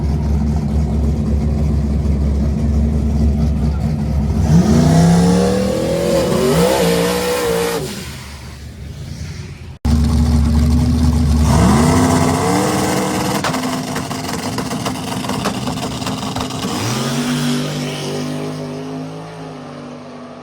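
Drag racing cars at an Extreme Street no-prep final, a turbo car against a nitrous Fox body, roar through two loud launches, engines rising in pitch as they accelerate away, with no talk over the noise.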